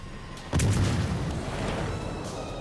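A single heavy boom from a warship's big gun in World of Warships Legends, with a deep low rumble that rolls on and fades slowly under steady background noise.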